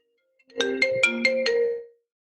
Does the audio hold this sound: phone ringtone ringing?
yes